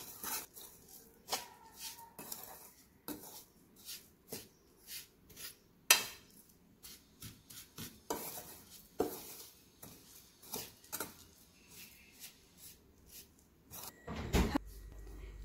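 Sugar is mixed into roasted fennel seeds in a pan, with faint irregular scrapes, clinks and rattles of a spoon against metal, quiet and close, with some talk in between.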